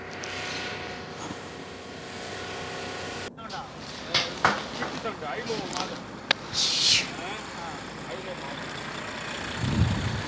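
A Volvo 440 truck with a faulty high-low gear system, its engine idling with a steady low rumble while someone talks over it, then sharper hisses and clicks cut through near the cab.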